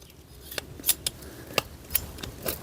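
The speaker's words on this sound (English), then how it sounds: "I'm going to cut that trunk out." Pruning shears snipping through an old grapevine trunk, a handful of sharp, separate cutting clicks spaced irregularly, close and fairly crisp against a quiet background.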